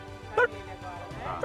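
A dog gives a few short, faint yips and barks beneath ongoing talk and background noise.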